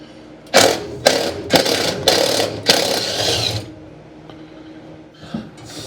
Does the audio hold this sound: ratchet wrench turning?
yes